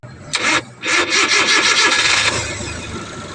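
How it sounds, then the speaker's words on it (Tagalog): A car engine is cranked for a start during alternator undercharge troubleshooting, giving a short rasping burst, a brief pause, then a longer rapid starter churn that fades into a quieter idle. "So i-start nato mga idol."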